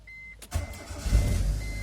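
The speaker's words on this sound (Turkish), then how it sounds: "Aracımızı çalıştıralım. Bakın çalıştırıyorum." A Proton Gen 2 car with LPG conversion is started after its fault code is cleared: a short starter crank followed by the engine catching and settling into a steady idle, close by with no talk.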